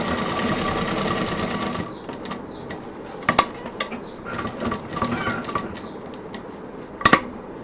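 A sewing machine runs in a fast steady whir while stitching a bag handle, then stops and restarts in short bursts with sharp mechanical clicks, close by.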